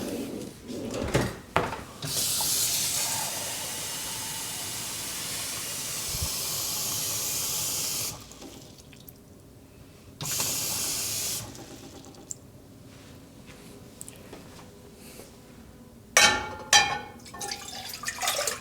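Water runs into a measuring cup in a home kitchen while salt and pepper tofu is being cooked, a steady rushing hiss in a few long stretches broken by pauses and small clatters.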